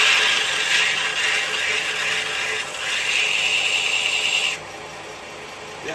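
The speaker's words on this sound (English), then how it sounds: "I don't know yet, so I'll start sharpening it," A negative rake carbide woodturning cutter is ground on a grinder wheel, producing a continuous bright rasping hiss for several seconds that drops to a quieter tone toward the end.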